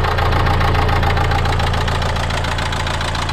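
A car engine with the wrong fuel in it idles roughly and knocks. The sound is a steady, loud, near mechanical clatter with an uneven beat that continues for the whole stretch, and no one speaks.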